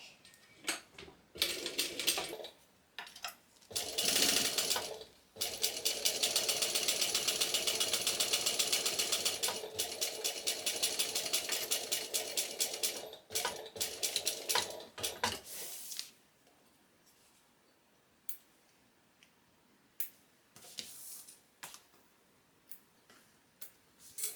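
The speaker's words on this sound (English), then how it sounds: "So now we're going to sew down the last side down here." A sewing machine runs in fast, steady bursts as it stitches down the last side of fabric for a beginner project, with rapid even ticking and short pauses between runs, close and alone.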